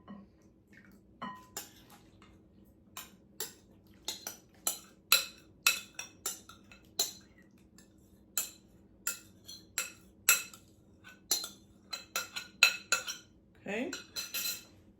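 Metal utensils clink and tap against a bowl and dishes in a home kitchen while a cooled mixture is added, a steady run of sharp, close clicks and chinks with a brief scraping swirl near the end.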